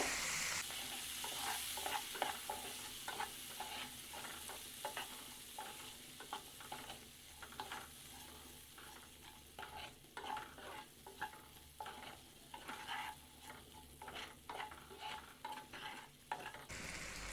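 Thirty sour grapes are stirred and fried in a pan for a grape chutney, with a spoon scraping in a steady, repeated rhythm over a continuous sizzle, up close and without talking.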